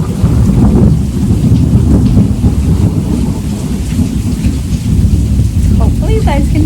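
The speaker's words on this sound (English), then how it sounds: "it is raining and thundering and all of that very hard" Heavy rain pours down steadily with deep rolling thunder rumbling throughout, heard from a porch, loud and close, no voices.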